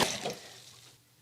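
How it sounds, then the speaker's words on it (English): Lukewarm water runs from a bathroom tap during hand washing, a soft close splashing hiss loudest at the start that quickly fades to a faint trickle. "Wash your hands first. I prefer like lukewarm water, not hot."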